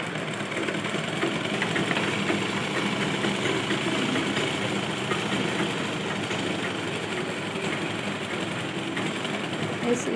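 A sewing machine stitches the kali panels of a ghagra skirt together in a continuous, even mechanical hum with fast regular ticking, steady throughout and fairly close.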